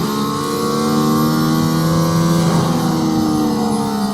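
Mercedes-AMG ONE accelerating hard out of a corner on a race track, a loud, close engine wail climbing steadily in pitch through a gear with no talking over it.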